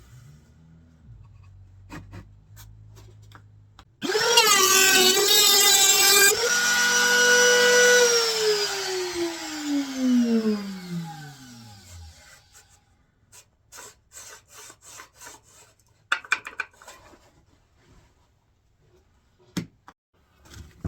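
A power tool cuts a long dovetail into wood, starting abruptly with a loud, high whine that bends downward in pitch as it slows, then stops; scattered knocks and handling clatter follow.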